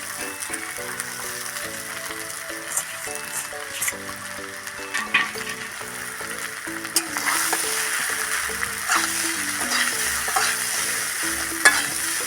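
Sago (sabu) with potatoes and raw turmeric is stirred in a hot pan, a continuous close sizzle broken by scraping stirs and occasional sharper clacks, with a faint tonal background underneath.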